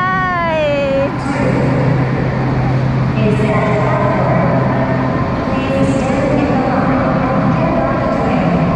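A train stands at a station platform in Laos, producing a loud, steady rumble that opens with a short tonal whine, while people talk over it.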